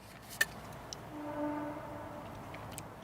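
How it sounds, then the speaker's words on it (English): A faint, distant train rumbles with a soft horn-like tone swelling midway, over quiet woodland ambience at a campsite with a couple of small clicks. "That's just a train."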